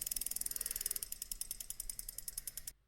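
A digital decision wheel spins with a rapid run of ratcheting clicks. The clicks start fast and slow steadily before stopping abruptly after about three seconds. The sound is bright and fairly faint.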